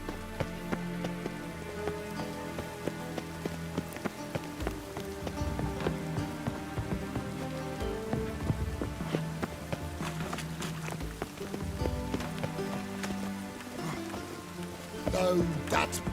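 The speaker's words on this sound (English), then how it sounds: "Looks like rain." Rain falling in The Witcher 3 game world, a steady patter on surfaces with scattered sharper drops, mixed with footsteps and occasional hoof clops against a layer of background music.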